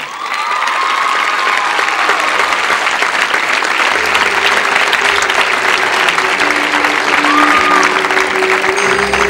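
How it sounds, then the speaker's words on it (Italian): Sustained audience applause fills a Caimano d'oro award ceremony honouring a water polo player, a loud, dense clapping that holds steady from start to finish with a faint crowd murmur beneath. "ancora un applauso per la prima donna"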